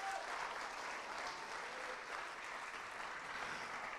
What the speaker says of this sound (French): Merci de les encourager par vos applaudissements aussi.